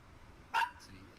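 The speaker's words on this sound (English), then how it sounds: "his pet is definitely not too happy with whatever it is he's barking at" Dog barking outside at night, a single short sharp bark against a quiet, faint background.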